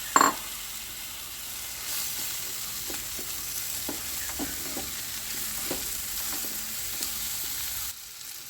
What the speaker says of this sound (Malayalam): വെണ്ടയ്ക്ക കൂടി ചേർത്ത് ഒന്ന് ഇളക്കിയെടുക്കാം